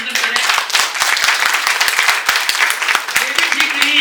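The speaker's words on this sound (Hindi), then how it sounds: "तालियों से उनका अभिनंदन करें।" Applause from an audience at a Kargil Day tribute event, with sharp, distinct individual claps repeating rapidly over a continuous wash of clapping and some voices, loud and near.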